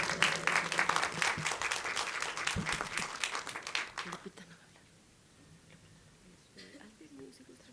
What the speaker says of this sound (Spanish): Le cedemos la palabra y un fuerte aplauso